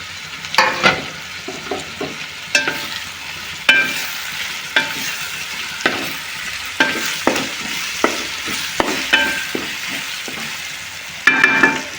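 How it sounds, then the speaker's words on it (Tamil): Crab masala fries in a pan with ginger garlic paste and tomatoes, a loud close sizzle broken by repeated scraping strokes of a spoon stirring at an uneven pace throughout. "இஞ்சி பூண்டு பேஸ்ட் நல்லா வதங்கிடுச்சு இப்போ வந்து ஒரு முந்நூறு கிராம் தக்காளி சேர்த்துப்போம்"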